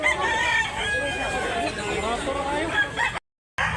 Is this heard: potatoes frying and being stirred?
no